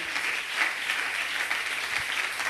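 A church congregation applauding: steady, dense clapping from many hands, even and sustained, filling the room without pause.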